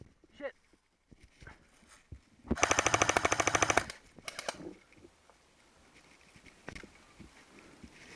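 Airsoft guns, including a PPSh-41 replica, fire during a battle, one dense sustained automatic burst of about a second and a half standing out loudly over background chatter, with scattered single pops before and after.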